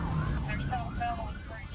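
A police siren wails and wavers at a distance in dashcam footage, rising and falling beneath steady traffic rumble and wind noise.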